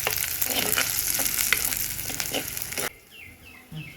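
Mustard seeds and urad dal sizzle loudly in hot tempering oil with curry leaves for a traditional gravy, a dense crackling spatter that stops abruptly, leaving only faint background sounds.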